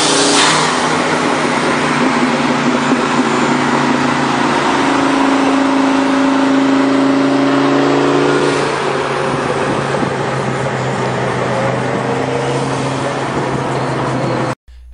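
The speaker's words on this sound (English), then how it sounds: "Listen to the turbo whistle as throttle is applied." A turbocharged Mustang engine hums loudly and accelerates, with a rising turbo whistle climbing over the engine note, then settling into a steady drone.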